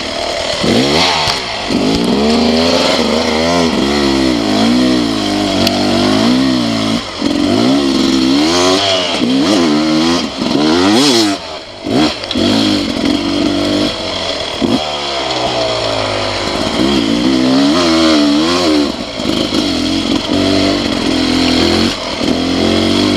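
A 2021 Beta 300RR Race Edition dirt bike cruises in second gear, its two-stroke engine a loud, steady close-up drone with repeated swells as the throttle rises and falls, running nonstop with no talk.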